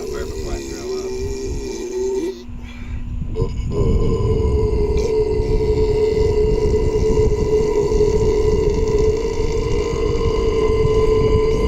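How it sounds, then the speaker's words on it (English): A loud, drawn-out burp after chugging Coke Zero, a low rumbling belch that swells after a brief voiced lead-in and holds steady close to the mic for several seconds. "I got a burp before I throw up."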